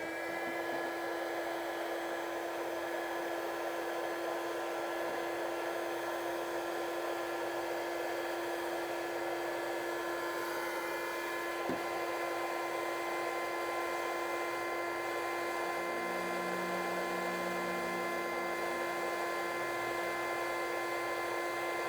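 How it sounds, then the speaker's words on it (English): A heat gun heats solder connectors during a Lane Shark Hammerhead install. It gives a constant, loud blowing whine with a steady tonal hum that never stops, heard close and alone with no speech. "whenever you're heating these up, to not blow, you want to be mindful of what's behind the heat gun"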